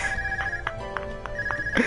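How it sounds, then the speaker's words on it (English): A phone rings in the video game Legend of Heroes: Trails of Cold Steel, short electronic trills repeating over game music, ending in a brief louder burst. "phone is ringing."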